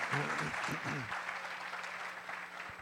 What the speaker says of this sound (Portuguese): E a igreja dá um grande aplauso ao Senhor Jesus por isso.